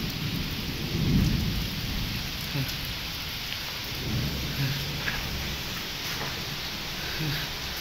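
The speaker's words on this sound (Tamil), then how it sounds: "பயங்கரமான மழை, மின்னல் வேற அடிக்குது நல்லா." Heavy rain hisses steadily while low thunder rumbles roll through, strongest early on and returning faintly later.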